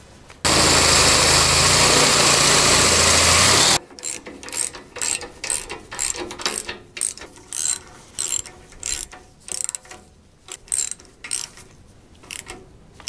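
Drilling slowly into a Caterpillar D4 bulldozer near its coolant-filled radiator: a loud continuous burst of a few seconds, then a run of short ratcheting pulses in an uneven rhythm, close and alone.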